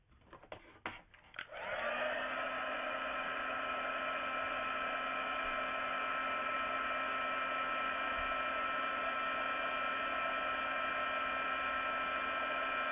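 A heat tool blows over paper craft pieces for a butterfly bouquet, starting with a few clicks and then settling into a steady, close, even whirring hum that runs unbroken to the end.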